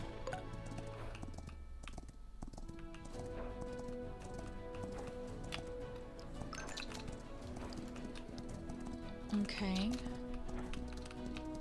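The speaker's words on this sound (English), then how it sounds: "Okay, you can go faster, horsey." Horse hooves gallop in the video game Star Equestrian, a steady rhythmic clip-clop running beneath a person talking, with a brief whinny-like sound near the end.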